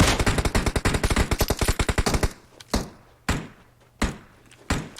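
Gunfire in the battle royale game PUBG Mobile on the Miramar map: a rapid automatic burst of about two seconds, then several single heavy shots spaced apart, close and loud with no talking over it.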